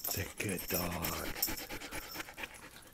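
A dog pants quickly and rhythmically close by, its breathing mixed with a soft whimpering tone and a little background noise.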